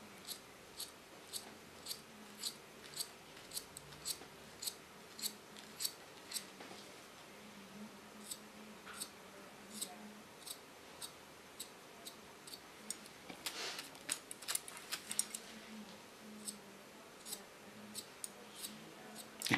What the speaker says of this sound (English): You can hear that the hair is ultra strong. You hear it cutting.